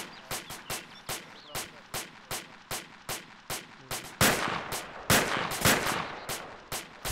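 Rapid gunshots crack out in the Arma 2 military shooter, a steady string of evenly spaced single shots followed by heavier, closer bursts near the end, with faint voices underneath.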